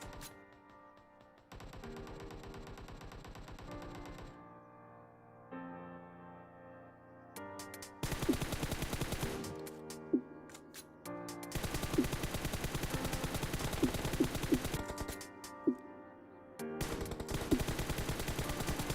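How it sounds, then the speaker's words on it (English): M416 rifle fire in PUBG Mobile comes in several sustained automatic bursts, separated by short pauses, with rapid loud cracks and a few sharper single spikes between the volleys. "Here I am not controlling recoil, and this is the recoil of M416."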